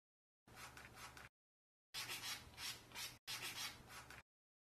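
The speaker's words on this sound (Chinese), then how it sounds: "把整个皮边打磨一遍，让它平整。" Leather edges of a short wallet being sanded smooth with 220-grit sandpaper, three close, steady rubbing strokes separated by short silent pauses.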